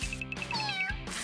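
A kitten meows several times in quick succession, close and clear, with high, wavering cries and no other voices.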